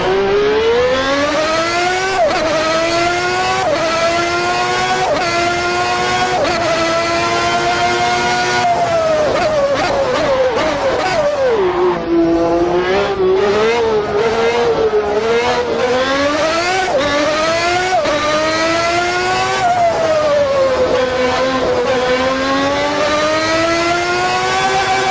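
A manual race car in the Assetto Corsa racing game downshifts from sixth gear to first at Monaco. The engine roars loudly and without a break, its pitch dropping and surging with sharp throttle blips at each gear change. No talking.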